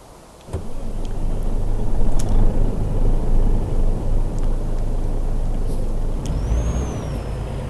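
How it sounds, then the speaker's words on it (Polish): A truck engine in Euro Truck Simulator 2 drones steadily and loudly, with a low continuous rumble and an air-brake hiss near the end. "uruchamiam silnik i wyruszam w dość krótką trasę z Wiednia"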